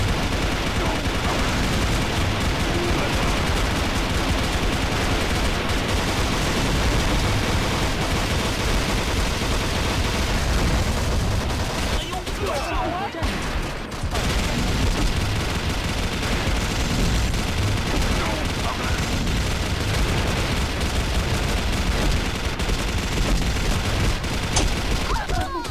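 A gold-black turbine machine gun (MK5) fires in a first-person shooter video game, rattling in dense continuous bursts with booms, loud and nearly unbroken apart from a brief pause midway.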